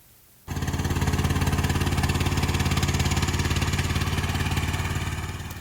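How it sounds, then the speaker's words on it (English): A Chinese mini skid steer's 420cc engine bursts into a loud, steady chugging idle, the rapid even firing pulses running close and continuous with a slight fade at the end. "This machine I'm running here has a 420cc, I think it's a Rado engine in it."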